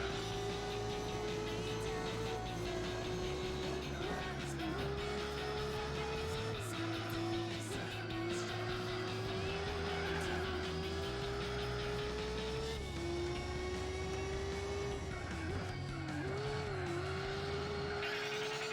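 HSV race car in Gran Turismo 4 with a high, screaming old-F1-style engine, held steady at full revs with brief dips at gear changes, continuous and loud throughout.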